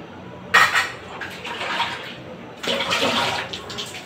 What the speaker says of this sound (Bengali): এবার এর মধ্যে অন্যান্য সবজি পেঁপে আর কলা দিয়ে দেব।